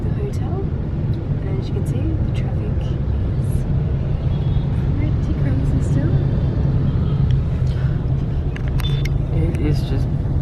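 Bumper-to-bumper street traffic in Ho Chi Minh City forms a constant low rumble of engines, with scattered sharper sounds and a voice audible over the din.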